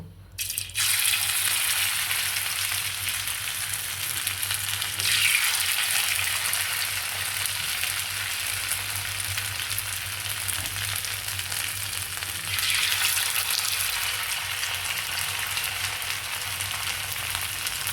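Raw potato fritters coated in rice flour fry in hot oil, a loud continuous hiss and crackle after a short quiet start, swelling slightly at intervals.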